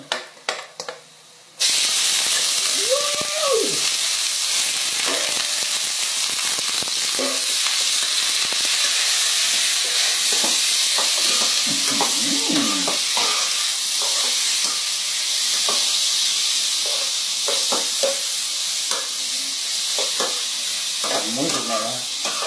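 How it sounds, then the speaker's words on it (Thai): Pork stir-fried in a pan with sweet banana peppers sizzles in a steady, loud hiss that starts abruptly and continues throughout, with occasional stirring clatter and someone talking briefly over it. "ทีนี้ใส่หมูลงไป"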